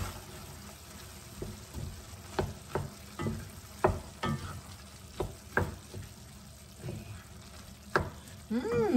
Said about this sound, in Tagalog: So tatakpan lang natin uli ito para maluto ang mga vegetables at saka mag-reduce pa ng konti ang ating sauce.